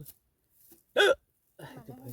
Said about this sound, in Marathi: उचकी लागली बांधायला